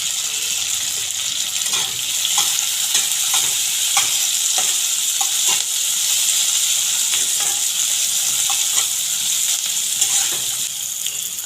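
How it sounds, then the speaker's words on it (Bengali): Onion, chilli and tomato fry steadily in a pan with a bright, continuous sizzle and occasional stirring scrapes and taps, close and loud throughout. "আর পেঁয়াজ লঙ্কাটা সব ভাজা হয়ে গেছে।"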